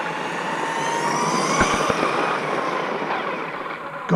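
An FTX Bugsta RC car converted to a 3650 4300KV brushless motor driven at full speed, a loud continuous high-pitched whir and rush with a few sharp knocks midway, close to the listener.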